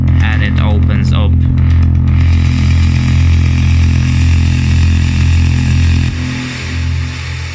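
Synthesized noise for a cinematic impact swells open as a cutoff filter sweeps up, growing brighter and hissier over a loud, steady, engine-like drone that dips near the end.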